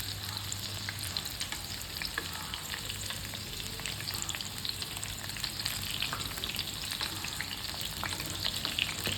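Corn pakoda made with cornflour fry in hot oil, a dense, continuous crackling sizzle that holds steady and close throughout with no voices.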